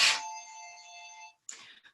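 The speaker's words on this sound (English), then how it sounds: "my phone is ringing" A mobile phone ringtone rings close and clear: a bright synthetic chime sustained for over a second, then a shorter second burst after a brief gap, alone without voices.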